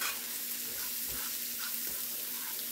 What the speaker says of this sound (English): go here and stir fry your vegetables